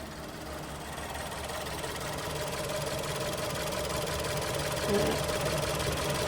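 A Ford Escape 1.6 EcoBoost engine, just rebuilt after a head gasket repair, cranks and runs at a steady, low, quiet idle with a faint bump near the end, a voice talking over it.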